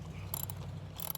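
A Vevor awning mount being tightened onto a 2019 Hyundai Tucson, with two brief, faint ratcheting clicks from a hand tool over a low steady hum, no voices.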